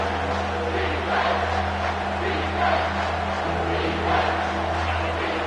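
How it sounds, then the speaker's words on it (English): Stadium crowd in the NCAA 25 college football video game, a steady broad roar with swelling cheers, continuous and loud throughout, no close talk over it. "This crowd knows when to bring it."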